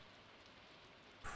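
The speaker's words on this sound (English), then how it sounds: "by the sounds of it, it's raining" Steady rain pours in the farming video game Stardew Valley, a dense even hiss throughout with a brief louder surge right at the end.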